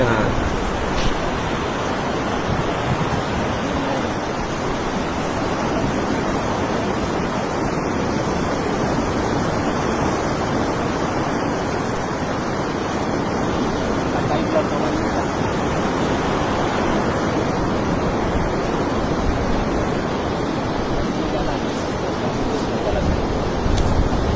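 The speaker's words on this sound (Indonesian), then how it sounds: "Ini ombaknya lagi besar." Large sea waves surge ashore during a cyclone, where water floods over a road that has turned into a stream; a loud, steady roar of surf and wind noise runs throughout without pause.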